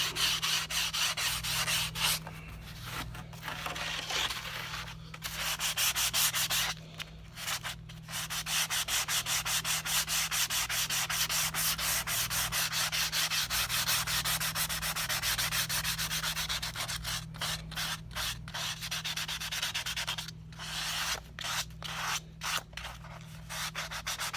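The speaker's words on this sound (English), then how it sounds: "So then you'll take just a little piece of sandpaper." Sandpaper rubs back and forth across wooden guitar back braces in fast, steady rasping strokes, pausing briefly a few times, close and continuous.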